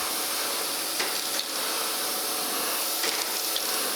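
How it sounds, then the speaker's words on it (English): A surface grinder works a metal foundry casting flat, parallel and square in a machine shop, giving a steady, loud broadband hiss and rush that holds evenly throughout with only small flickers. No one talks. "That's what we do, the surface grinding."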